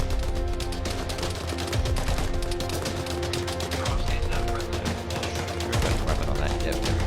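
Sustained gunfire rattles through a firefight in Arma 3, rapid repeated shots with bursts of automatic fire that continue steadily, loud and close throughout.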